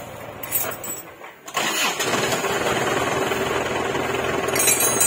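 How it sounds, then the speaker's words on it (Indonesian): A Suzuki Panther's engine cranks briefly, catches with a loud burst, then settles into a steady, rough, clattering run, close by in a workshop. "Om bisa dibantu hidupkan mesin"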